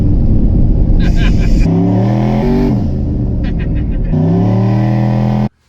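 A 1000-horsepower turbocharged GMC Sierra pickup launches hard, its engine roaring loud and close with rising, shifting revs in stepped surges before cutting off abruptly.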